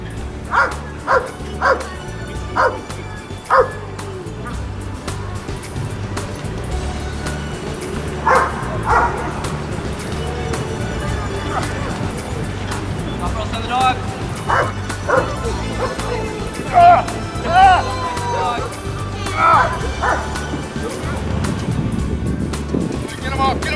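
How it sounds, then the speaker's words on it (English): A Belgian patrol dog barks repeatedly in sharp, loud bursts with some whimpering yips, heard outdoors while people talk nearby. "The patrol dog, I believe, is a Belgian."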